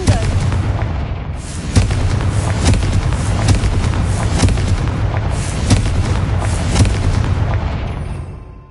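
Confringo fire spell explosions in Hogwarts Legacy on PS5: a run of loud, booming blasts and cracking bursts rolls on almost without pause, heavy low rumble underneath, fading out at the end.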